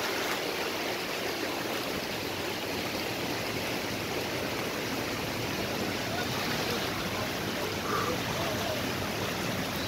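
Stream water rushing at Oued Kennar near Chefchaouen, a steady broadband wash of flowing water that holds evenly throughout without voices.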